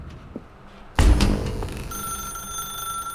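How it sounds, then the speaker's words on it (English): Telephone ringing in The Stanley Parable: after a quiet moment, a loud, sudden ring begins and settles into a sustained bright electronic bell tone that lingers to the end. "Now pick up the phone."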